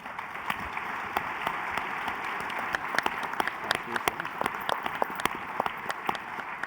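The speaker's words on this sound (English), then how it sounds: "Let's please give everybody a round of applause" Audience applause for a panel at a GEOINT 2017 conference session, steady dense clapping from a crowd filling the room with sharper individual claps standing out near the front.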